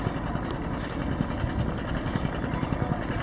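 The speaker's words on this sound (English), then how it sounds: "I'm sure you can hear the generator" Steady, loud mechanical engine drone of a generator on a crew boat, with a constant low rumble and hum, continuous throughout with no breaks.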